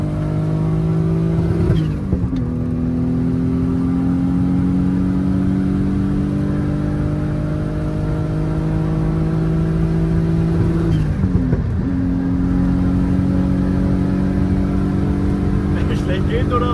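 A turbocharged BMW E36, said to make about 400 horsepower, accelerates hard on a German Autobahn, its engine revving up through rising pulls with two clear gear-change dips, loud and close, with people talking inside the car.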